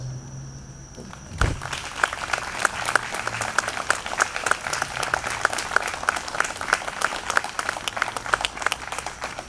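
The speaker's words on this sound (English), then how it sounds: "let's give them a round of applause" A crowd at a 9/11 memorial ceremony applauds veterans, the clapping starting abruptly after a sharp knock and continuing as a steady, moderately distant patter throughout.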